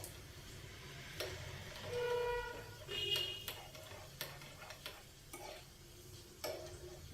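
Ridge gourd pieces sizzle quietly in a pan for chutney, with soft stirring scrapes and occasional light taps of a utensil against the pan.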